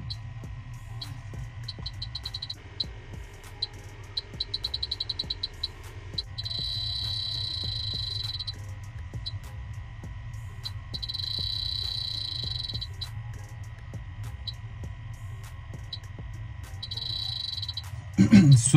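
An electronic refrigerant gas leak detector checking a fridge, emitting bursts of rapid high beeps and longer steady tones over a low hum.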